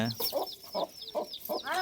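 Chickens cluck in short repeated bursts, close by, with a brief higher call at the end; no talking.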